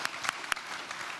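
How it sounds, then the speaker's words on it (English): Brief burst of audience applause for a speaker at a physics forum, a soft, even patter of many hands with a few sharper claps standing out, fairly faint and short. "Give him a big applause, of course"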